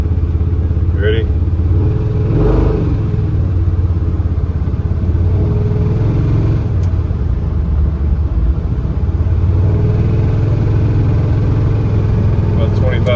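A 454 big-block V8 with a roller cam and Harland Sharp rocker arms runs at a steady raised idle near 2,500 RPM, giving a continuous close engine drone with a faint ticking clatter. A voice talks over it.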